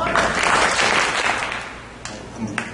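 Church congregation clapping along with the preacher, a dense burst of many hands that fades, followed by a couple of sharp isolated claps and a faint voice underneath.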